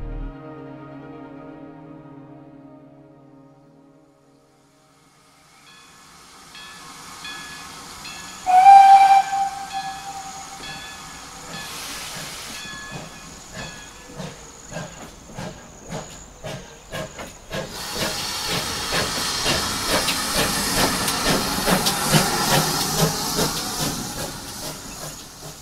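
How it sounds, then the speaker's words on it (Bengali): Steam locomotive sound effect for a Bengali horror story set among hills and dense sal forest: a quiet start, a sharp loud whistle blast near the middle, then rhythmic chuffing building into a strong, broad steam hiss. "ট্রেনটা ছোট বড় পাহাড় আর ঘন সন্নিবিষ্ট কেঁত, পিয়াল, মহুয়া, দেবদারু আর শালবনে ঘেরা অজ্ঞাত জঙ্গুলে জায়গাটায় অনিলকে নামিয়ে দিয়ে 2 মিনিটও দাঁড়ালো না।"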